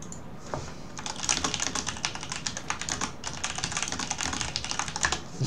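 Rapid clicking of a computer keyboard as someone types a chat message, a steady, close clatter of keystrokes running throughout without voices.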